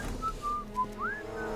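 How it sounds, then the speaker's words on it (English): A character whistles in the Back to the Future video game, several short tuneful notes ending in a rising slide, clear against a quiet background. "When in doubt, whistle."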